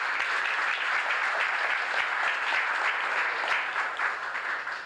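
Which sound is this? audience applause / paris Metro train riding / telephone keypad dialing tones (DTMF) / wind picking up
audience applause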